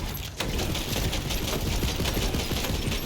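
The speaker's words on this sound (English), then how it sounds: "A purple shotty. Oh wait, this is an assault rifle." An assault rifle fires in Tiny Tina's Wonderlands, a fast, steady clatter of shots that runs almost the whole clip at moderate loudness.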